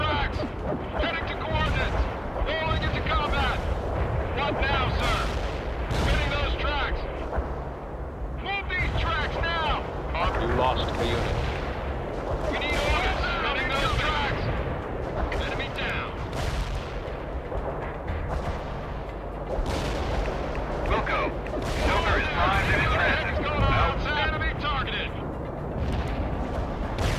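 Booming artillery fire and explosions fill a World in Conflict Soviet assault battle for Seattle, with heavy rumbling blasts recurring throughout a dense war soundscape, intermittent radio-style unit voices and clicks layered over the din.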